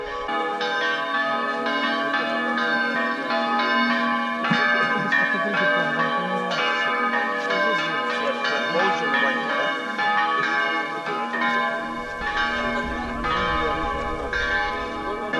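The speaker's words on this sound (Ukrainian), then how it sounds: "Якраз нам дзвони заграв." Church bells ring in a continuous, dense peal during a Sunday service, several tones clanging over each other for the whole stretch, loud and fairly near, with faint voices underneath.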